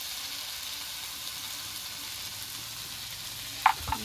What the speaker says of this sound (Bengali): গরম মশলাটা দিয়ে দিয়েছি, এবার একটু নেড়ে চেড়ে নেব।